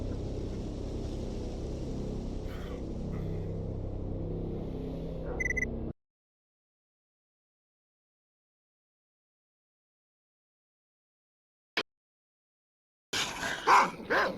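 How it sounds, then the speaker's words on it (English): Dogs barking and growling in the video game S.T.A.L.K.E.R. Call of Pripyat, a dense stretch of repeated barks over a low engine-like rumble, then near silence with one sharp click, and a final burst of barking. "you got dogs out on the front porch"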